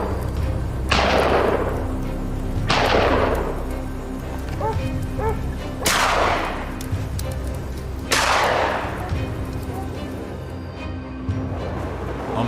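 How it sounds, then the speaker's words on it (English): Four sharp, booming gunshots ring out at irregular intervals during a wild boar hunt on snowy mountains, each trailing off in a rumbling decay over a steady low background. "the rumbling sound of consecutive gunshots"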